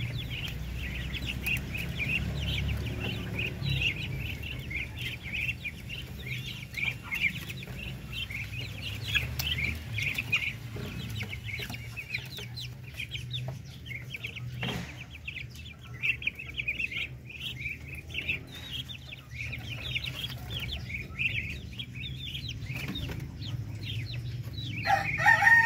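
Darag native chickens on a Philippine farm: roosters crow repeatedly, near and farther off, over constant clucking from a flock, with no talk.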